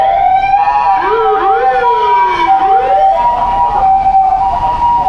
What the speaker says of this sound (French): Kyukyusha, une ambulance